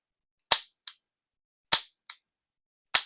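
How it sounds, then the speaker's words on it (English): A 1933 Smith & Wesson 38/44 Outdoorsman revolver being dry-fired through its long double action: three sharp metallic snaps, each followed by a softer click, spaced about a second apart in an otherwise silent room. "Trigger pull, the old long action"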